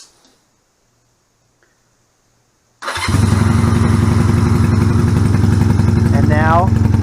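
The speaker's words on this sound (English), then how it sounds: "So I'm going to fire it up" A Honda Rebel 250 motorcycle with dual carburetors being repaired starts after near-silence, catching abruptly and settling into a loud, steady, close idle with a rapid pulsing rhythm.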